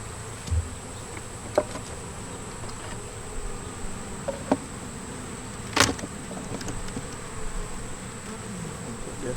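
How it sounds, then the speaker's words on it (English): Bees drone and buzz continuously around hive frames being cleared, a steady close hum with occasional louder passes and faint knocks of frames being handled. "Get those bees out of there."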